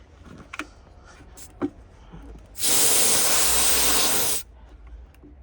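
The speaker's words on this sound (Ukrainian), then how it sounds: "Чи колесо шипить, чи чи цей, чи сосок сам шипить." Air hisses loudly and steadily from a truck tyre valve on a very cold winter day, a single sustained burst of about two seconds, preceded by faint scattered clicks and handling noises.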